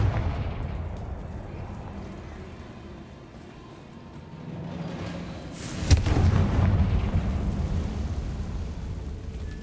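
Explosive Confringo spell cast in Hogwarts Legacy, a loud burst around six seconds rising out of a low rumbling game ambience, with a sustained roar lingering afterward.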